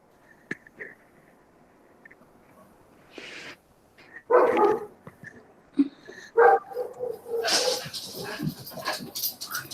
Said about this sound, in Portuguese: nós estamos escutando seu cachorro latindo